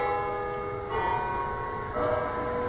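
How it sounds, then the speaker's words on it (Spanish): Church bells ring out in a sustained, resonant peal, with new strokes landing about once a second over a low background rumble. "Las campanas llaman al pueblo,"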